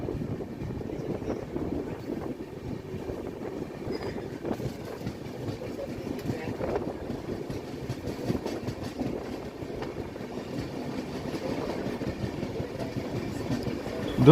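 Udyan Express train 11301 running on rails, a continuous low rumble with rattling and clatter heard from inside the moving train, moderately loud and without talk.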